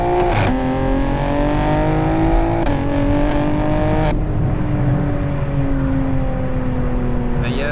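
A BMW M2 with the S58 engine and an X mid pipe exhaust revs hard, pitch rising and falling through several loud blips, then settles into a droning cruise, close and prominent.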